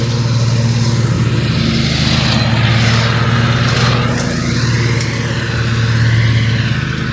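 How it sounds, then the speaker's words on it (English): A lawnmower cuts grass nearby, its engine giving a steady, unbroken droning hum that holds at an even loudness from start to finish. "the lawnmower guy's cutting grass"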